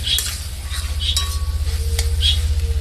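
A spoon stirs spices with a pinch of sugar and cumin powder in a frying pan for sweet-shop style bhaji, giving light repeated scraping strokes and a faint sizzle over a steady low hum.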